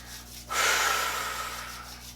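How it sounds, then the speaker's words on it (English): Two hands rubbing briskly together during a Kundalini yoga session, a close, breathy swishing friction that starts abruptly and continues steadily in quiet surroundings. "rub your hands together"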